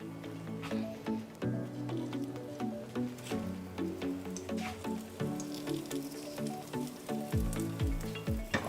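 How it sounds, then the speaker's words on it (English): A black bean burger sizzles in hot oil in a pan over medium heat, a steady crackling frying hiss with soft pops, while background music plays throughout. "I can tell that the oil is hot, so I'm going to place my burger in there"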